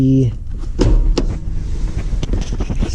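A car door being opened, with a clunk of the latch and rattling of the door, close by, followed by some handling noise.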